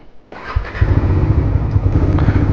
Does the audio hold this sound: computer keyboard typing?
no